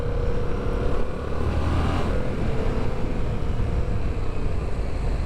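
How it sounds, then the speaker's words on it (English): Engine of a 2019 Yamaha XSR700 motorcycle, the FZ07 powerplant, running steadily with a rough, throaty rumble and slight rise in revs, loud and close throughout with no talking. "FZ07 engine."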